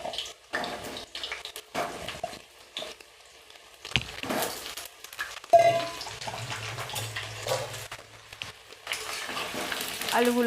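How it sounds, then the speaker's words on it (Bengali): Potato pieces fry in oil for a chicken curry, a soft sizzle with intermittent stirring clatter and scraping, moderately close, broken by brief pauses and no talk. "এবার এর মধ্যে দিয়ে দেবো কেটে রাখা আলু টুকরোগুলো, দিয়ে আমি ভেজে নেব।"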